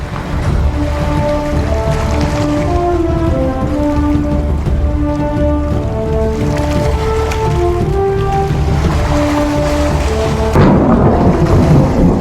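A thunderstorm sound effect with steady, loud rain and rolling thunder rumbling throughout, mixed beneath sustained orchestral music tones, with a heavier surge near the end.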